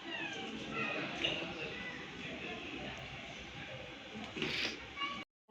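Several pet cats meow as they are carried downstairs to be placed in boxes, their cries rising over a constant background hum, with a person speaking now and then.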